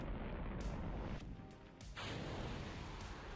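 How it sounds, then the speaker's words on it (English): A rocket blows up in Kerbal Space Program with a brief muffled boom, surrounded by steady engine roar and broadband rumble at moderate level, with no speech. "Oh, we had a bit of an explosion there."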